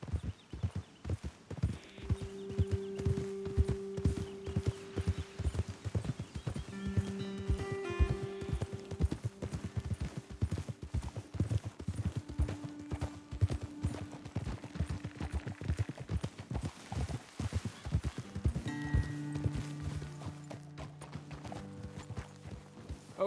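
Horses gallop with steady, rapid clip-clop hooves in the Red Dead Redemption 2 game, a continuous rhythm running the whole way alongside tonal score and a few scattered sharp cracks.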